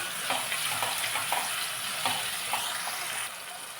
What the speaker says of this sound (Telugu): టమాటాలు వేగిపోయాయి.